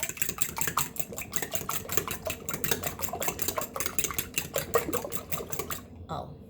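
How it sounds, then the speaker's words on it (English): Eggs being whisked for a quiche, a fast rhythmic clatter of a utensil against a bowl, close and steady for several seconds before stopping abruptly. "I break the eggs up before I actually mix them, because to me it makes it a little bit easier"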